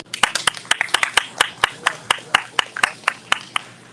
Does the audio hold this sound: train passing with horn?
no